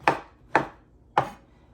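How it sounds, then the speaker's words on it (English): A knife chops portobello mushrooms on a board in four crisp, evenly spaced strokes, close and clear with nothing else sounding. "let's start chopping up these portobellos"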